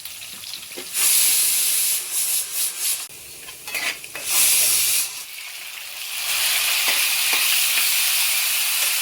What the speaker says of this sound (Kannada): ಕೊಬ್ಬರಿ, ಎರಡರಿಂದ 3 ನಿಮಿಷ ಫ್ರೈ ಮಾಡ್ಕೊಳ್ತೀವಿ ಎಣ್ಣೆಯಲ್ಲಿ